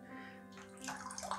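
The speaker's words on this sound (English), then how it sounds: "We're going to pour off the bloom water" Bloom water is poured off a soaked shaving soap before a wet shave, a faint, close splashing trickle that grows busier toward the end over a low steady hum.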